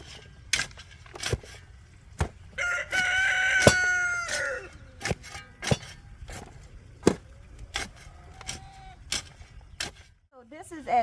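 A morning rooster crows once in a long call, then gives a brief later cry, amid sharp intermittent knocking and scraping from nearby yard work.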